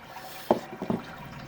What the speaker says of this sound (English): the water just draining down into the boil kettle